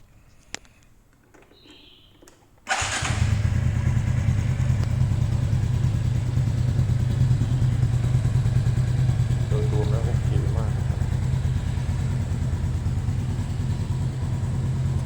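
A 2021 Honda Wave 110i motorcycle engine starts up abruptly and then runs steadily near the listener with a low, even drone, with faint clatter over it and no speech.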